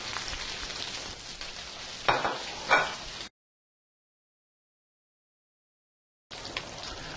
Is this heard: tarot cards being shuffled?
no